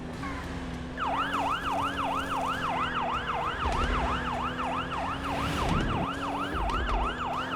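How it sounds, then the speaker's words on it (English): A wailing emergency siren in the Used Cars Simulator video game sweeps up and down in rapid, regular cycles, loud and continuous after a short start, over a low engine-like drone. "How can that siren sound like it's behind me?"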